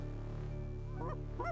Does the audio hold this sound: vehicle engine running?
no